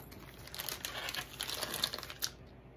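Plastic packaging of feminine wipes crinkles steadily as it is handled up close, a quiet continuous rustle with small crackles and no talk.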